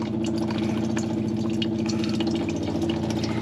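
Steady trickle of water draining out of the fuel line on a 1UZ-powered green boat, a constant nearby splashing flow with faint dripping and no voices.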